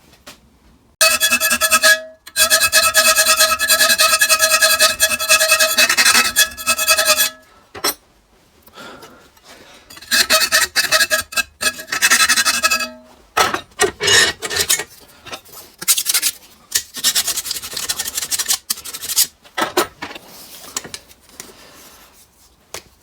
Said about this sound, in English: Now I need to get the file in there and open this up a bit more.